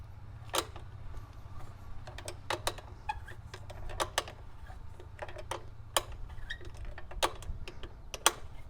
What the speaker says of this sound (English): I'm gonna grab the 8mm Allen key and tighten the bolts in the frame